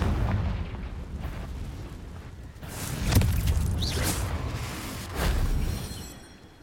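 A Confringo spell in Hogwarts Legacy lets out booming, fiery explosions, with two or three heavy blasts rumbling over a low background in a short stretch.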